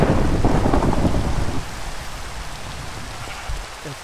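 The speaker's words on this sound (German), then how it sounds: "Es regnet." Rain and rolling thunder in the video game Minecraft: a loud rumble of thunder fades after about a second and a half into a steady patter of rain, with no talking.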